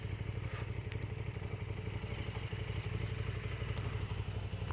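A motorcycle engine runs steadily and close by while the bike is being parked, giving a constant low rumble with occasional light clatter and a thump, and no voices.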